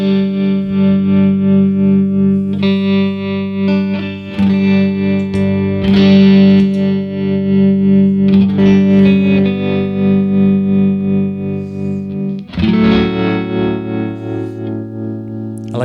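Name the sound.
guitar tremolo effect pedal with distortion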